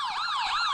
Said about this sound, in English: how the frick is the siren still working?